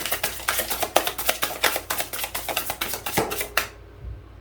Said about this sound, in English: Let's go back to shuffling the cards.